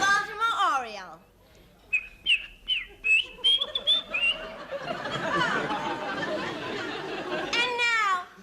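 A human voice imitates a Baltimore Oriole's song with a series of short rising and falling whistles and warbles, close and clear, then a longer trilling passage, with hints of amused chatter from listeners.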